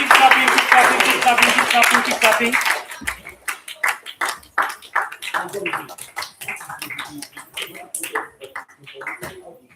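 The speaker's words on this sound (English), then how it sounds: "Keep clapping" Audience at a summer bootcamp talk breaking into clapping: a dense burst of applause that thins into scattered, uneven individual claps, with a voice heard at the start.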